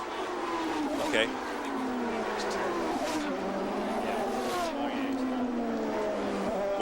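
Champ Car race cars on the St. Petersburg, Florida street circuit during 2003 qualifying, engines droning steadily at mid distance with rising and falling pitch sweeps, while a commentator talks over the top throughout.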